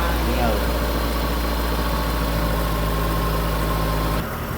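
A Mazda6 engine that has just been started after overheating trouble idles with a steady low hum inside a repair shop. It runs loud and even, then drops off near the end.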